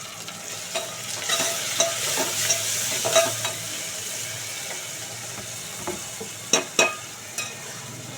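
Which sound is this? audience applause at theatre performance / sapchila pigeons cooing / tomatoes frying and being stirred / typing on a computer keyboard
tomatoes frying and being stirred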